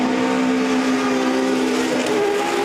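Rallycross race car with a rotary engine launching off the start line at a Finnish circuit, a loud sustained high-revving scream that holds steady and close throughout, no talk.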